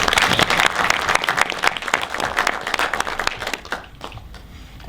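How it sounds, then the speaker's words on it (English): Audience applause for models at a photography lighting workshop at Pinewood Studios, a lively burst of many hands clapping up close that gradually thins out and fades toward the end. "Let's give our beautiful models a round of applause"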